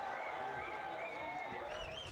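Crowd of GE fans cheering and applauding at an esports match in Map 1 between GE and Team Secret, a steady wash of clapping and cheers throughout with faint tonal game sounds over it.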